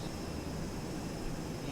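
Steady broad engine drone of a Diamond aircraft descending on auto approach in the X-Plane 11 flight simulator game, a continuous unbroken hum with a faint high tone throughout.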